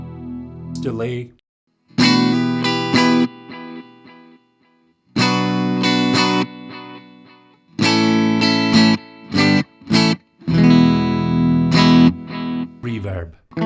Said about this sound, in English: Delay.